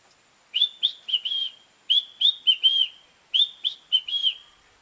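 A person's voice imitates a great kiskadee call: three clusters of bright, clear whistled chirps, each a quick run of four notes, spaced evenly and heard alone with no talking.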